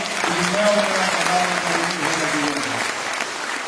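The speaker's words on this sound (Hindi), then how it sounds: "मैं चाहूंगा 3 लोगों के लिए जोरदार ताली।" Sustained applause from an audience, steady and dense throughout, with some voices mixed in underneath.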